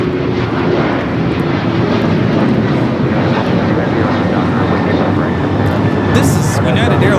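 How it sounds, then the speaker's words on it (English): A United Airlines Boeing 737-900ER roars steadily during its takeoff roll and climb, a loud broadband jet rumble that fills the whole stretch, while people talk over it. "This is United Airlines 2086 taking off to Houston Intercontinental on the 737-900ER."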